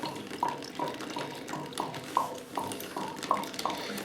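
Water draining from a home radiator valve into a container, a steady close trickle and splash with light rhythmic dripping and faint clinks, continuous throughout.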